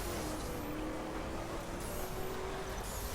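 A heavy Camaro muscle car driving on a dirt course in The Crew, a steady engine drone with rising gear-change tones and light tire noise throughout, moderately loud and free of talk.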